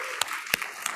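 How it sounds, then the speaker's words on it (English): A few scattered, separate hand claps at a school board meeting, three or four distinct claps over a quiet room hum, greeting a principal of the year. "Give her a hand clap, please."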